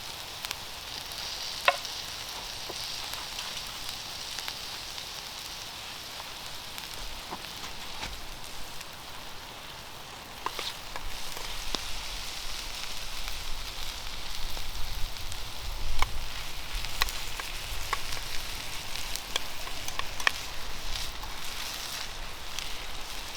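Potatoes and onions, seasoned with pepper, fry in a pan outdoors on a windy fall hike, giving a steady crackling sizzle mixed with gusty wind noise and occasional sharp pops, with no talking.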